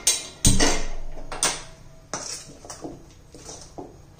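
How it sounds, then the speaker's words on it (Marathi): A metal tava griddle is set on a kitchen stove, giving several sharp clanks and clinks of metal against metal at irregular intervals, each ringing briefly before dying away, close and clear with no talking. "आता मी तवा गरम करण्यासाठी ठेवलेला आहे।"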